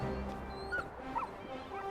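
Torgal, a dog in Final Fantasy XVI, whimpers softly with a few short, high whines over a quiet in-game background.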